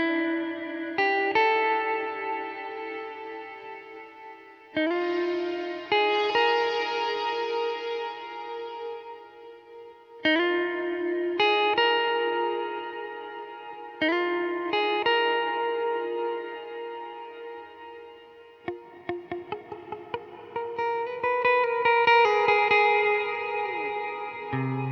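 Guitar played through the Source Audio Encounter reverb pedal, with chords and notes swelling into long, washy tails that ring out between loud strums, the repeated phrases blooming and sustaining alone without talk.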